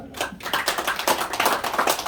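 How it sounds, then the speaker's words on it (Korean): Audience applause for former lawmaker Lee In-je at a Korean national unity lecture event, a dense, steady round of clapping from a crowd that starts abruptly and holds at an even level throughout. "우리 지도자 이인재님의 뜨거운 박수 한번 부탁드리겠습니다."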